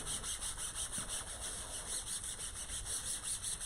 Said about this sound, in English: grab another disinfectant wipe, and I'm going to go around all the edges of my transfer